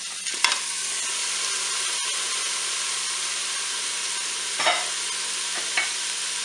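Pork tenderloin and onions browning in a Cookeo multicooker, a steady soft frying sizzle with occasional stirring scrapes and clicks, close and continuous without talk.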